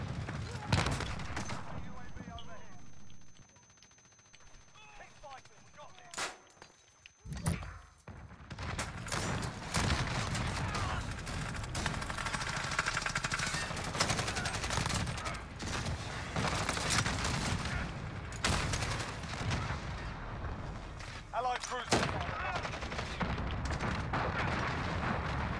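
Rapid, dense gunfire rattles through Call of Duty: Modern Warfare, with sharp bursts and isolated shots early, a brief lull, then sustained loud volleys of automatic fire mixed with mechanical clanks and a voice speaking.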